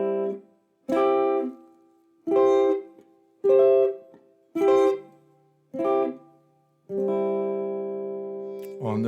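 Guitar triads strummed slowly one at a time on the first string set, six short ringing chords followed by a longer sustained one, clear and close with no talking.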